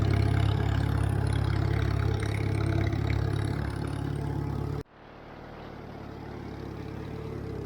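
A Farmall 350 tractor engine runs in a hay field with a steady, loud, low throbbing drone that suddenly drops to a quieter, more muffled hum partway through.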